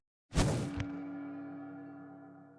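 A single whooshing fiery burst from the Minecraft fire charge sound, followed by a lingering, shimmering enchantment tone that slowly fades out, like a game spell effect.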